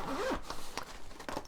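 A zipper on a pencil case is pulled open in one quick close rasp, then followed by a few soft rustles and small clicks.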